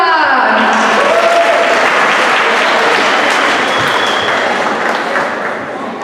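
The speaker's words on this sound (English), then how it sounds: "So big round of applause for everyone." Loud, dense applause from a crowd at the opening ceremony of the 2022 MCS All Star Classic, a steady roar of clapping that eases slightly toward the end.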